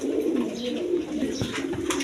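Pigeons sheltering in clay pots coo continuously at close range. The soft, throaty calls repeat one after another, with a few faint flutters and knocks in the background.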